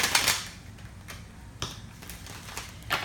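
Several quick crisp snaps and riffles of tarot cards being shuffled, spaced irregularly in a quiet room.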